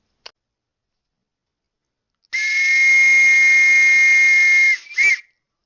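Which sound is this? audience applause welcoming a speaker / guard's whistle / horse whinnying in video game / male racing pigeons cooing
guard's whistle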